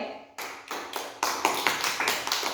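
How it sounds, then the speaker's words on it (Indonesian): Schoolchildren in an Indonesian classroom clap together on the teacher's cue: sharp, close bursts of clapping that come in quick successive rounds and grow louder toward the end. "beri tepuk tangan lagi"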